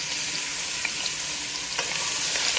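Finely chopped onion, carrot and celery soffritto sautéing in a pan on medium-high heat for Bolognese sauce, a dense, steady close sizzle with a few faint stirring clicks, no voices.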